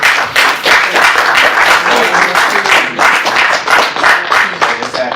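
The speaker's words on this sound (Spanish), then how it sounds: "Un aplauso." An audience at an author talk applauds loudly and continuously, a dense wash of many hands clapping close by that holds steady for several seconds.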